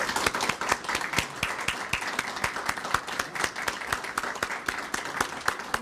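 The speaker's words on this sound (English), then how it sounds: "we really need to applaud you for all your hard work." Steady applause from a crowd, many hands clapping at once in a dense, sustained patter, fairly close.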